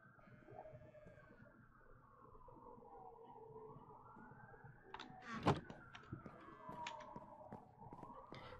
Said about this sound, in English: Sorry if you can hear the police sirens and stuff through the mic.